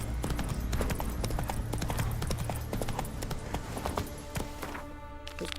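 Roach, Geralt's horse in The Witcher 3, clops along with rapid, close hoofbeats in a steady gallop-like rhythm that stays loud before easing near the end.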